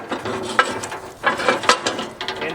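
Ratchet wrench working the U-bolts loose on a trailer axle: loud, close, rapid clicking in repeated bursts with brief gaps, a metallic grinding rattle throughout.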